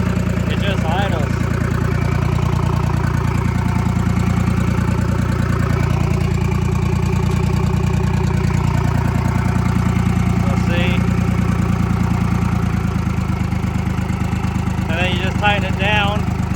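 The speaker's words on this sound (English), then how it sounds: "So it should just fire right off. Yeah, look at that. It just idles." A Detroit Diesel 3-53 two-stroke engine idles in a loud, continuous, throbbing low drone, with brief voices heard over it now and then.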